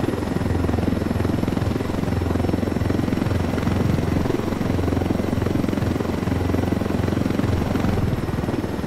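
A helicopter in the Ghost Recon Wildlands video game drones steadily with a close, continuous rotor thump and engine whine, loud and unbroken for the whole stretch with no talk.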